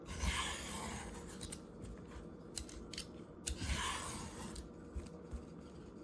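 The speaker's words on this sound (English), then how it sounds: "I'm just going to use a potato peeler to peel the fuzzy melon." A potato peeler scrapes the skin off a fuzzy melon in quiet, close, rhythmic rasping strokes, with soft crisp bursts separated by brief pauses and no voices.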